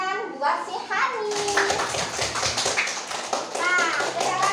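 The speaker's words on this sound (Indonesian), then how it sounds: "Kita berikan tepuk tangan buat si Hani" Schoolchildren in a classroom clapping for a classmate named Hani, a dense run of small hands applauding close by, mixed with children's voices and chatter throughout.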